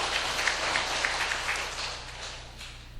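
Church congregation applauding the choir and church school during a Sunday service: dense, fairly soft clapping from a crowd, steady at first and thinning toward the end.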